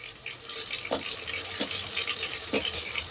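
Finely chopped onion and ginger fry in a pan with a constant hiss, punctuated every second or so by the knock of a spoon stirring.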